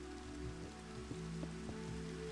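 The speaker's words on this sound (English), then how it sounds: "rain" Steady rain pattering in the Minecraft video game, a continuous soft wash with a few faint drip ticks over a low ambient hum, no voices.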